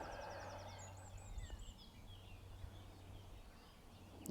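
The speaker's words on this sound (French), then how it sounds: "le gazouillis des oiseaux" Small birds chirp and trill outdoors, with quick repeated high notes and warbling phrases early on that fade to scattered calls over a steady ambient hiss, no talking.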